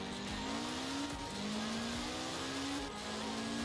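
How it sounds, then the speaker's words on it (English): A turbocharged Mitsubishi Evo X engine in Forza Horizon 4 spools up in repeated rising whines, each climbing in pitch before dropping and starting again over a steady rumble. "You can hear this turbo spool up crazy"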